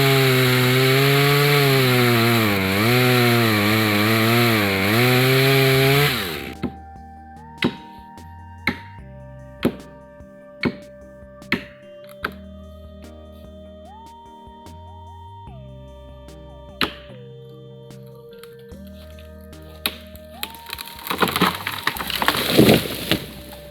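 A chainsaw cuts through a tree, loud at the start, then a run of sharp wooden cracks and knocks as a wedge is driven into the cut, ending in a rising rush and crash as the tree falls over.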